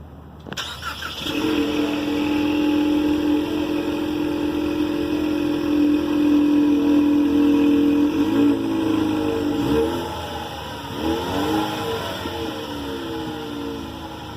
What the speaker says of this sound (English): here is what the Mustang sounds like